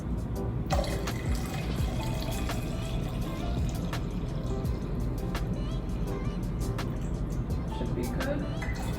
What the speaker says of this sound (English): is fill it up with water.